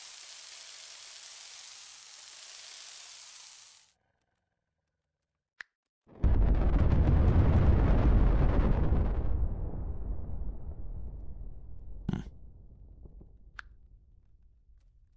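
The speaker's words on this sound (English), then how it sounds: "Oh god, many antimatter bombs." Several antimatter bombs go off in WorldBox, a steady hiss of game sound giving way after a short gap to a loud, deep, rumbling blast that slowly dies away, with a few sharp pops near the end.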